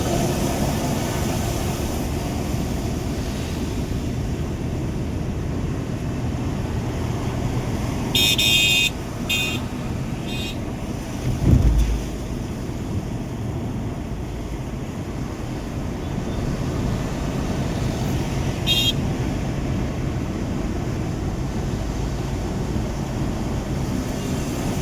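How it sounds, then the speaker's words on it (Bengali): A Toyota Innova races along the Howrah–Kona–Salap road with constant road and wind rumble from inside a moving car. A couple of short, sharp horn honks sound partway through and again later. "ইনোভা রেস করার চেষ্টা করছে"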